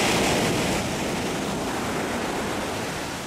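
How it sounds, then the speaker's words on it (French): Sea waves breaking on the Corsican coast, a loud continuous wash of surf and spray close by, with wind buffeting the microphone. "Il y a de belles vagues."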